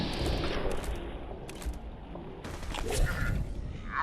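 Gunfire in Fallout 4 bursts out loud and close, a dense rumbling volley with booming low end and clattering mechanical noise through most of the moment.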